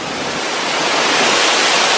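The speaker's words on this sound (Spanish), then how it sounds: "Efectivamente era una cascada." A loud, steady roar of rushing water from a waterfall at Montefiore, broadband and constant, filling the whole clip with no other sounds.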